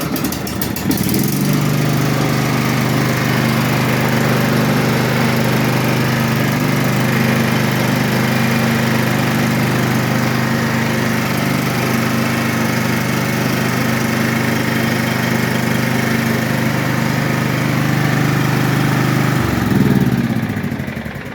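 John Deere lawn mower engine starts up and runs loud and close at a steady idle for about twenty seconds, a throaty hum with no talk over it, then stops.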